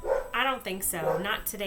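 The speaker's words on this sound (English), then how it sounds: "Sorry, that's my dog barking." A pet dog barks a few short, sharp times indoors, close by and partly masked by a person talking steadily over it.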